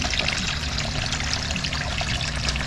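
A second garden waterfall pours into a pond with a constant, close splashing rush that holds steady throughout, with no talking.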